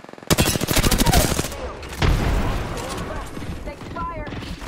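Rapid, loud gunfire bursts in Apex Legends during Season 17 ranked solo play, a dense volley at the start followed by further shots and ringing tails, with a voice calling out over it.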